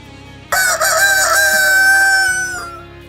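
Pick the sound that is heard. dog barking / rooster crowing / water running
rooster crowing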